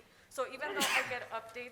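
A single short sneeze bursts out during a city council meeting, sharp and brief, closely wrapped in a man's ongoing speech.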